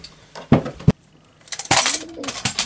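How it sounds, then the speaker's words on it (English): Pigeons flutter and clatter close by in a couple of sharp bursts, with possible cooing amid the commotion and brief voices between the bursts. "The pigeons! The fucking pigeons!"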